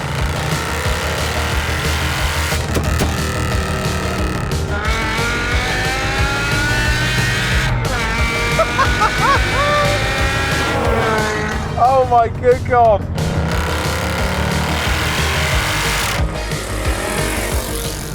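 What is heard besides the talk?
V8 and V10 cars driving fast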